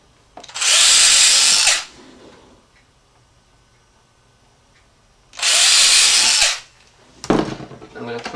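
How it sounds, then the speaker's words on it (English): Two loud bursts of a power drill boring into wood, each about a second long, separated by quiet, followed by scraping and handling noises. "I'm going to drill this square."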